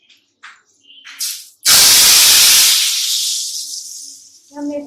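Hot garlic tadka poured into dal, a sudden loud sizzle that bursts up and then slowly dies down, with a few small kitchen clatters before it and a brief voice afterward.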